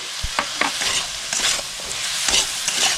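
Chicken soup ingredients seasoned with black pepper are stirred in a pot, a spoon scraping and clinking in quick irregular strokes over a soft background sizzle, close and clear with no talking.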